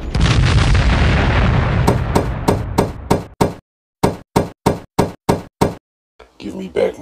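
Grenade blast and gunfire in a stop-motion battle between Call of Duty and Halo figures: a long, loud roaring burst, then a string of evenly spaced sharp shots, a short pause, more shots and a final rumble.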